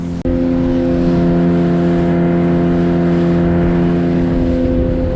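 Fishing boat engine held at full throttle around 6000 rpm, a loud, steady droning roar with strong tonal hum that stays constant after a brief dip at the start, heard close and alone.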